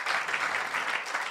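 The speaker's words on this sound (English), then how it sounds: "Give him a round of applause, ladies and gentlemen." Lively applause from an audience at a national science and maths quiz championship launch event, continuous and even with quick overlapping claps, moderately quiet.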